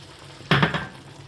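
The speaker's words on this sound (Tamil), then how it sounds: "இப்போ நாங்கள் இந்த தேங்காய் பாலை ஊற்றுவோம்" Coconut milk is poured into a pan of cooking tomato rice, setting off a sudden burst of sizzling that quickly fades to a softer simmer.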